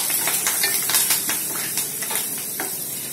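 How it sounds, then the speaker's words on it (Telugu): Whole spices, cloves and cinnamon sticks with dried chilies, sizzle and crackle in hot oil for coconut rice, a steady close frying hiss with occasional stirring scrapes, no voices. "ఆయిల్ హీట్ ఎక్కింది దీంట్లో ముందుగా ఉన్న మన లవంగాలు దాల్చిన చెక్క వేయించుకొని వేయించుకోవాలన్నమాట"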